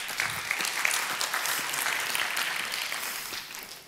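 A conference audience at RSG 2023 applauds a presentation, producing a full, sustained burst of many hands clapping that holds steady for several seconds before easing off slightly.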